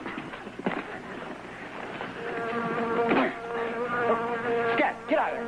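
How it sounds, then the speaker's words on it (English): A bee buzzes close by in a steady, droning hum that swells and wavers in pitch over several seconds, standing out clearly with only faint background sound and no clear talking. "The bee, if they sting you, really swell up."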